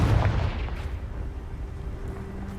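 A Confringo blasting spell explodes in Hogwarts Legacy, a loud booming burst up front that fades into a low rumbling tail with no voices.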